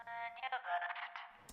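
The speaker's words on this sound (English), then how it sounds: "It's called the bad cell connection preset." A voice runs through a lossy plugin's bad cell connection preset, coming out thin and band-limited like a phone line, with choppy dropouts and a glitchy burst at the end, fairly quiet.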